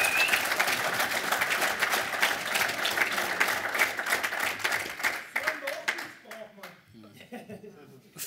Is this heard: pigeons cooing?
no